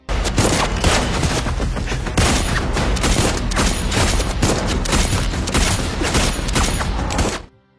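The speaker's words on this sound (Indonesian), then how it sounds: "terjadilah aksi tembak-tembakan" Rapid, dense gunfire in an action-film shootout, with sharp shots crackling in close, overlapping bursts that barely pause for about seven seconds before cutting off.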